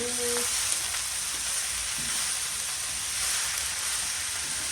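Freshly picked organic mustard greens from a small home garden sizzle steadily in a hot pan. The close, continuous frying hiss carries a few faint clinks near the start and no talking.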